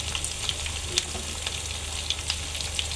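Dried ribbonfish sautéing in oil with turmeric, red chili powder, cumin and garam masala, a steady close sizzle with scattered crackles and pops, no voices.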